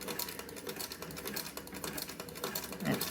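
Vintage sewing machine stitching fabric as the operator turns the material, a steady rapid mechanical clatter running throughout, close and moderately loud.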